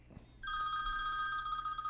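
A telephone rings in a radio sports talk studio, one sustained bright electronic trill starting after a short low thump and continuing loud and steady to the end.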